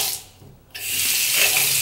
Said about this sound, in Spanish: Entonces, cuando abres el agua,